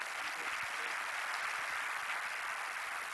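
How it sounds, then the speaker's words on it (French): Applause from the audience in a conference hall after a panel on building national champions in Africa, a steady, even wash of clapping that stays fairly quiet throughout. "Veuillez les applaudir très fort"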